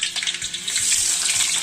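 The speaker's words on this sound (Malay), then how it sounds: "minyak dah panas, kita goreng kentang" Potatoes frying in hot oil in a wok give a dense, bright crackling hiss that stays steady and close for a short moment, with no talk over it.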